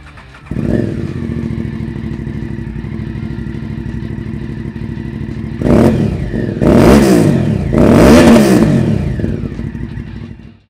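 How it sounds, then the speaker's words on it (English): A 2015 Aprilia Shiver 750 motorcycle fitted with slip-on mufflers idles with a steady, throaty rumble, then is blipped through several sharp, loud revs that rise and fall near the listener. "This bike has been upgraded with slip-on mufflers"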